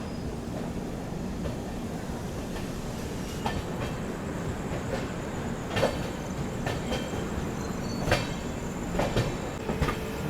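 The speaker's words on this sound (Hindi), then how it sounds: "अभी फाइनली अपनी ट्रेन निकल रही है प्रयागराज चुपकी जंक्शन से" LTT Mumbai–Banaras superfast express pulling out of Prayagraj Chheoki junction, heard from aboard as a steady low rumble with scattered clicks and clacks of wheels over rail joints, fairly loud and continuous, with no talking.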